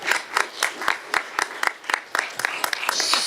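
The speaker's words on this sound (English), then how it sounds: "So I really want to give them a special round of applause." Scattered applause from a small group at a school board of education meeting, with uneven, fairly sparse claps spread over a few seconds at moderate level.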